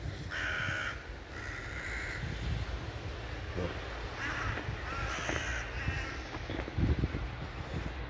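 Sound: crow cawing, disturbed by a dog

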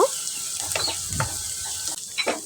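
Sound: chopped garlic being stirred in hot oil

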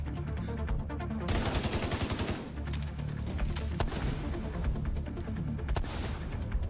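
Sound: UMP submachine gun firing in video game The Division 2

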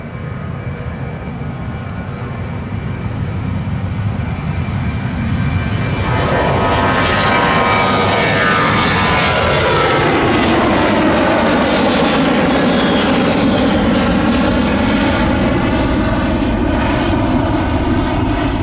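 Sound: aircraft engines at an airport during rush hour

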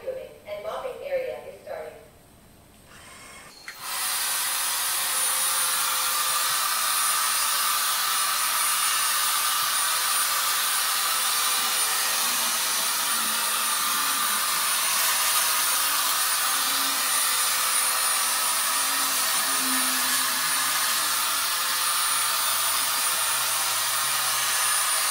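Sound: Viomi V3 robot vacuum cleaner running in turbo mode with mopping

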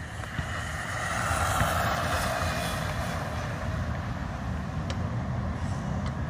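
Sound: Arrma Mojave Grom brushless RC truck driving

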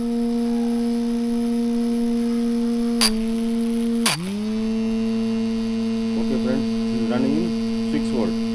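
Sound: small motor running on 6 V lead acid battery

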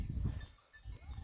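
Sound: goats bleating in the Brazilian caatinga

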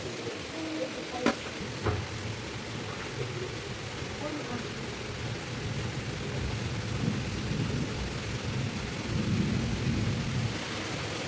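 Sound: heavy rain with thunder outside

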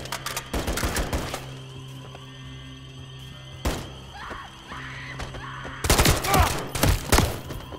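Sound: gunfire in Call of Duty Modern Warfare III video game

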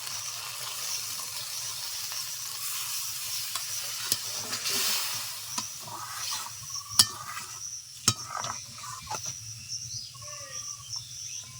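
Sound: water added to sizzling pointed gourd curry in pan

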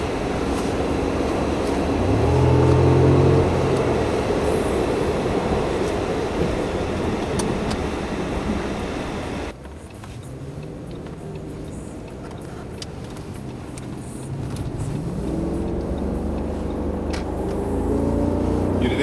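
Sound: V10 engine car driving

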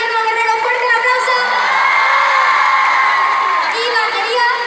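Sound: concert crowd applauding and cheering for the guitarist

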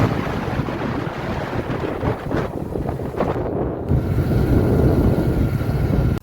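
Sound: wind blowing

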